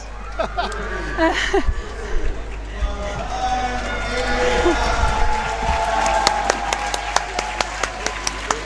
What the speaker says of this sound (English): hearing a big cheer for all the competitors that have finished